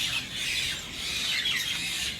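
Morning birds squawk and scuffle nearby, with a myna perched close, producing harsh overlapping cries that run continuously at moderate loudness without talk.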